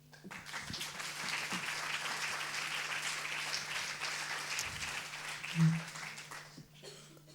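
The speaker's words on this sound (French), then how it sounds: "Et on peut les applaudir également." An audience applauds at a round-table event on autism, a steady, moderately distant patter of clapping that lasts several seconds and fades at the end.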